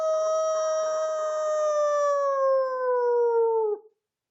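A person imitates a wolf howl, one long sustained wail that glides slowly downward in pitch for nearly four seconds before breaking off abruptly, loud and close with no other sound.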